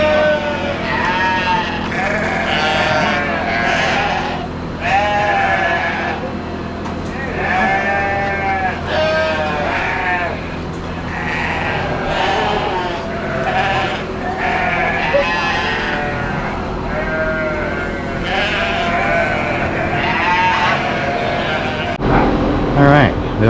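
A flock of sheep and weanling lambs on a farm bleats repeatedly, with many overlapping calls near and far in a loud, continuous chorus as they are moved toward the pens.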